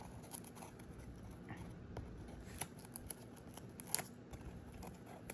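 An Indian ringneck parrot tearing up cardboard indoors: quiet, continuous crackling, ripping and scratching with occasional sharper snaps, soft and close.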